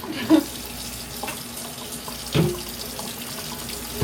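A plastic bag is turned inside out and washed with Dawn dish soap under a running sink tap. The tap gives a steady, close water rush with a few louder splashes and handling sounds, and no talk.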